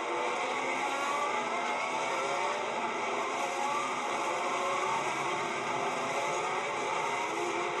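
CART IndyCar race cars of the 2002 season screaming around the track in a dense, continuous high-pitched engine roar, loud and unbroken, with no commentary over it.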